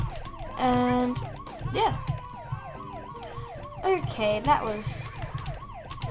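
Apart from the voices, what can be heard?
police car siren in the video game Tasty Planet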